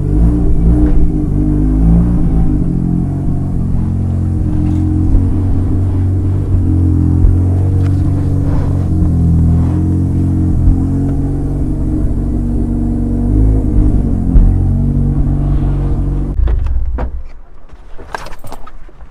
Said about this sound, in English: Oh yeah, cold start sounds pretty solid.